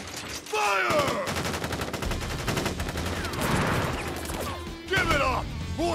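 Soldiers' rapid gunfire in Crisis Core Final Fantasy VII Reunion, dense volleys of shots rattling loudly and continuously, with a brief lull before a final burst and ricochet-like whines.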